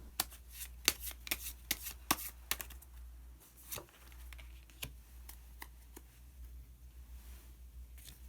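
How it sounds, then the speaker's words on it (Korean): Oracle cards being shuffled and drawn: quick, crisp slaps and riffles for the first few seconds, then softer, sparser clicks and rustles of card handling, close and quiet. "그러면 마지막으로 오셔젠 카드 한 장 더 뽑아보도록 하겠습니다."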